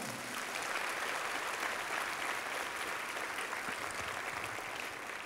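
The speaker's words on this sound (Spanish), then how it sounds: "Démosle un aplauso a Karina" A church congregation applauds in memory of Karina Quintana. The clapping is soft, even and unbroken throughout, with no voices over it.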